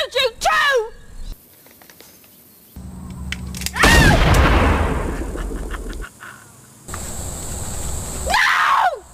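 Sharp gunshot blasts with a booming echo fired in a comedic creature story, sandwiched between cartoonish squawks and a short yell, loud and sudden against otherwise quiet gaps.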